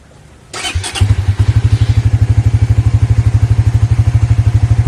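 A Suzuki GSX-R 150 motorcycle cranks with a clattering thump and catches, then settles into a loud, close, steady idle with an even pulsing beat.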